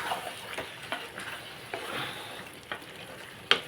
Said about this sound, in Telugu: ఒకసారి కలుపుకొని చూస్తున్నాను